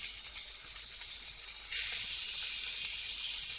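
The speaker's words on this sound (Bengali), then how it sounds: "এইভাবে আমরা ইলিশ মাছগুলো ফ্রাই প্যানে ভেজে নেব।" Hilsa fish pieces rubbed with Himalayan pink salt, turmeric and chili powder fry in a frying pan. A continuous close sizzle hisses softly at first, then jumps noticeably louder partway through and stays strong.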